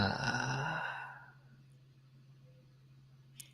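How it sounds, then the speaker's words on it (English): A breathwork participant's drawn-out yawn, a loud breathy exhale that swells and fades over about a second and a half, followed by quiet with a steady low hum in the room. "Take another breath in, but this time make it a yawn."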